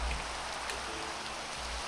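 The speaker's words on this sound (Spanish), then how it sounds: "Vamos a quitar la lluvia." Steady, even rain in Minecraft running the SEUS PTGI shader, a dense hiss of falling drops filling the scene without pause.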